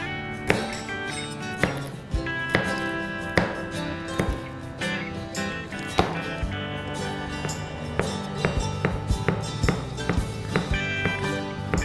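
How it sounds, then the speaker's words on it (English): Garlic cloves chopped on a cutting board, steady sharp knife knocks repeating close up over about twelve seconds, some strokes louder than others, with no voices. "now I will get the garlic cloves chopped"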